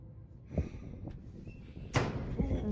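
A door slams shut with a sharp, loud impact, preceded by a few softer knocks and thumps in a quiet indoor space.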